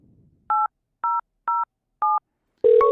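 Telephone keypad DTMF tones as a caller presses keys for an extension on an automated phone system: four short, evenly spaced dual-tone beeps, clean and alone, followed by a louder, longer tone.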